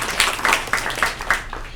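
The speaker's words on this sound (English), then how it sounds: "give her a round of applause for that" A handful of scattered claps, about five distinct hand claps at a slow uneven pace, fairly near, with no crowd joining in.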